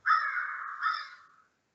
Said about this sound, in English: the woods that come alive with the sounds of woodpeckers and crows